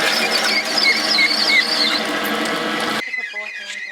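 Motorized hand washing station in a children's club sanitation area aboard the Disney Wish cruise ship, whirring with a high squealing spin as arms are inserted, then dropping quieter near the end.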